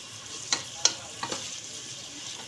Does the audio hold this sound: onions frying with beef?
yes